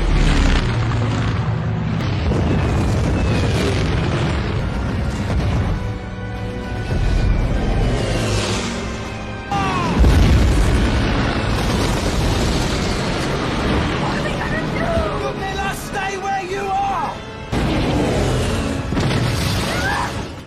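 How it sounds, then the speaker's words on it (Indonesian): Explosions from Nazi planes bombing an area in the war film Enemy at the Gates boom continuously for about twenty seconds, loud, dense rumbling blasts layered with debris and mechanical noise, with brief lulls between heavy impacts. "tiba-tiba pesawat Nazi membombardir wilayah itu."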